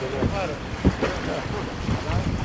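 Sailboats out on the water during the Barcolana regatta in the Gulf of Trieste, with gusty wind buffeting the microphone, hull and water splashes, and people talking on board.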